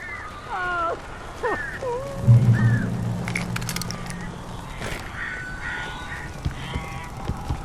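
Crows caw in the Alan Wake video game, with several short harsh calls early on over a rainy ambient bed, followed by a low rumble and scattered crackles. The calls sound fairly close and are not covered by talk.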